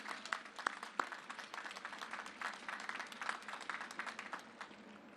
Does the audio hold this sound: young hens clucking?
no